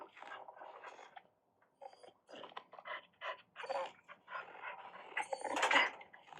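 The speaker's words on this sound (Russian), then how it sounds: "Пока, собачка." A dog pants in a video game, giving quick, breathy bursts in an irregular rhythm. Soft clinks and clatter come through along with it, and at the end a brighter sound rises and gets louder.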